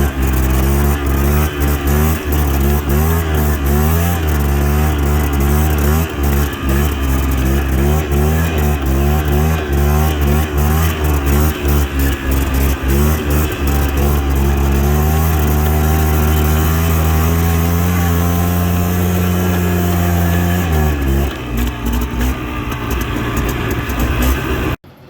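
A cheap quad bike with its seat off runs loudly and continuously on a sand dune, its engine droning and rising and falling in pitch, with a drop in revs near the end.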